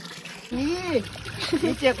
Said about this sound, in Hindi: ये देखिए धारा, यहाँ बहुत बढ़िया पानी आता है